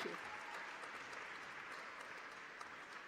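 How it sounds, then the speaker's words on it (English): Audience applause at the close of a pitch event, a steady wash of clapping sustained for about three seconds with no speech over it. "Another round of applause for Patrick, please."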